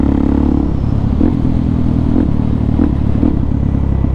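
A Suzuki DRZ400 dirt bike engine with a new jet kit, 3x3 mod and aftermarket exhaust idles loudly and close by, a steady low thumping rumble with occasional faint mechanical clatter and no talking over it.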